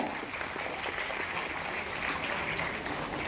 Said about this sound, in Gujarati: તો ગણેશ કુમાર માટે એકવાર જોરથી તાળીઓ થઈ જાય.